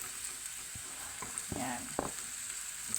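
Garlic sizzles steadily in a hot pan for adobong atay balunan (chicken liver and gizzard adobo), with a few soft stirring scrapes and clinks breaking through the constant frying hiss.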